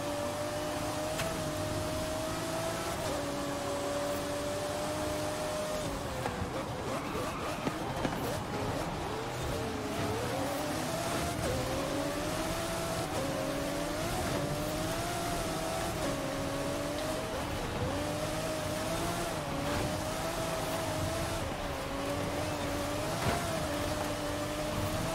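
Off-road Lamborghini Diablo SV in a video game race, its engine droning and revving steadily with rising and falling pitch throughout, loud and continuous with faint background noise.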